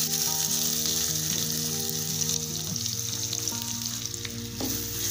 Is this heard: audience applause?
no